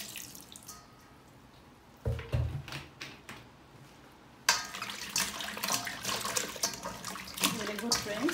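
Tap water runs over shrimp being rinsed in a sink, a steady close splash and trickle that grows louder and fuller partway through, with faint clatter mixed in.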